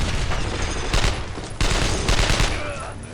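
Heavy gunfire in the World War II video game Brothers in Arms, loud overlapping bursts of rifle and machine-gun fire that pound without a break, with sharp jumps in intensity as new volleys start.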